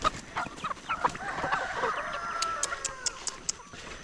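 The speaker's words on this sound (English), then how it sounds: "Something's wrong with my jungle fowl." A jungle fowl clucks in a busy, irregular series of short calls, close and fairly loud, with a few sharper notes standing out near the end.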